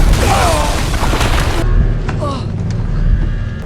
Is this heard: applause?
no